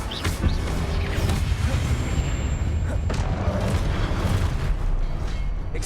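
Booming blast of the Confringo spell in Hogwarts Legacy, a loud rumbling explosion with heavy low-end roar that sustains for several seconds amid scattered impacts and game effects.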